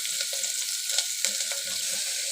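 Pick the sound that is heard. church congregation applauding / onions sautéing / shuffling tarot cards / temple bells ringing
onions sautéing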